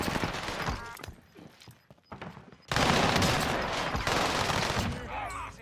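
Kilo 141 assault rifle fire in Call of Duty on Rebirth Island, with rapid automatic bursts and scattered shots that build into a loud, sustained volley near the end.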